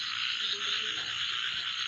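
A nighttime chorus of small and large water frogs, a constant layered croaking that fills the whole short stretch without pause or talk.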